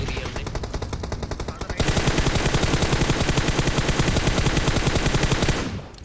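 Rapid automatic gunfire in the battle royale game Battlegrounds, a loud sustained stream of evenly spaced shots that grows heavier and denser partway through, then cuts off abruptly.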